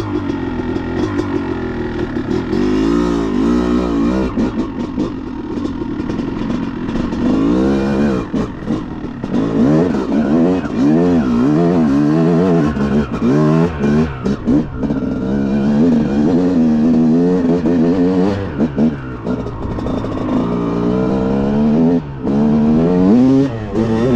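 A Yamaha YZ 325 dirt bike engine revs repeatedly, rising and falling in loud rapid blips close by, the two-stroke buzz climbing and dropping with each twist of the throttle.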